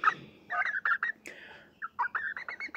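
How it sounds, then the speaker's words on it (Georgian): Large farmyard turkeys gobble in quick, rapid bursts near a henhouse. The calls are close and fairly loud, broken by short pauses, with no talk. "ეხლა უნდა გამოვუშვა დიდი ინდაურები"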